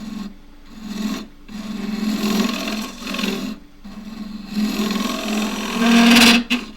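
A gouge cutting end grain on a wood lathe while an endgrain cup is turned, a close, continuous scraping rasp that swells and fades over a steady low spinning hum.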